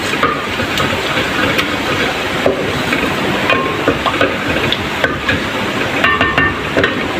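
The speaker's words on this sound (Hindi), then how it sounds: "थोड़ा सा ज़ीरा को मैं भून लेती हूँ।" Cumin seeds fry in hot oil in a pan, a steady, close hiss and sizzle with scattered small pops and clicks running unbroken throughout.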